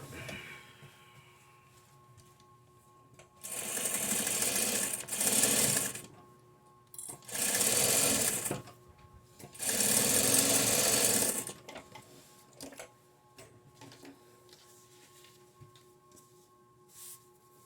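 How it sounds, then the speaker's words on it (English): A home sewing machine stitches quilt fabric in three bursts of fast, steady mechanical whirring, each a couple of seconds long, separated by quiet pauses with a faint background hum. "We're going to sew this side on."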